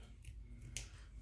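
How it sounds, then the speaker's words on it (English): Scissors trim backing material while making a mushroom gnome, giving two crisp snips close by over a quiet room. "this time I'm just going to trim it"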